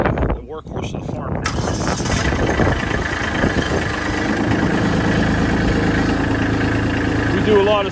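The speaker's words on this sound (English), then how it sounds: "This is my 2019 Kubota B2650. Bought this tractor new." A 2019 Kubota B2650 compact tractor engine idles steadily nearby, a continuous mechanical rumble with a faint rattle.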